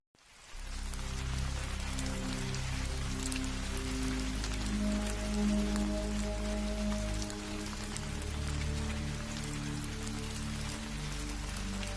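Light drizzle falls steadily through a rainy night scene in a Bengali horror cartoon, a soft continuous patter of fine drops with a low rumbling bed underneath, no voices.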